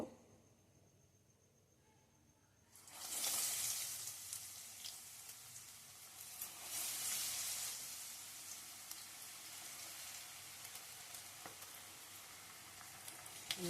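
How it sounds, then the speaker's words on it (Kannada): Bajji fritters drop into well-heated oil on a medium flame, bursting into a loud, hissing sizzle after a quiet start, then settling into a steady, crackling fry. "ಎಣ್ಣೆ ಚೆನ್ನಾಗಿ ಕಾದಿದೆ ಬಜ್ಜಿ ಹಾಕಿದ್ಮೇಲೆ ಮೀಡಿಯಮ್ ಉರಿ ಇಟ್ಕೊಬೇಕು"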